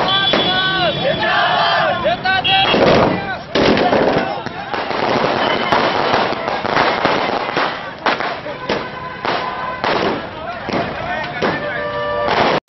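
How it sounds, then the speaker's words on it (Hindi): Fireworks and firecrackers burst repeatedly in quick irregular pops and crackles amid a cheering, slogan-chanting crowd of Congress party workers at a celebration rally in Palera, Madhya Pradesh, loud and close. "कांग्रेसी कार्यकर्ताओं ने नारे लगाकर आतिशबाजी की एवं खुशी का इजहार किया"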